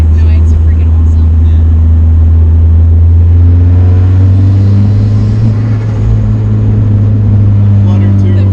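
Turbocharged Miata with an engine swap revs hard and steady up close inside the cabin, a loud droning engine note filling the clip while occupants talk over it.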